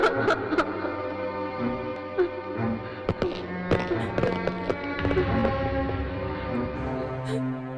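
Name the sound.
gunshot in a movie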